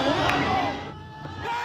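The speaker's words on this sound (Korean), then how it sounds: "광화문 광장은 환호성으로 뒤덮였습니다" A large crowd cheers in Gwanghwamun Square, Seoul, after a World Cup goal: a dense, loud roar of many voices with shouts, easing slightly midway and swelling again toward the end.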